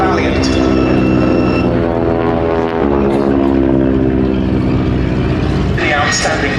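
A North American Valiant trainer flies at the Duxford Battle of Britain airshow, its propeller engine giving a steady harmonic drone that stays loud and close throughout, with a brief dip near the end.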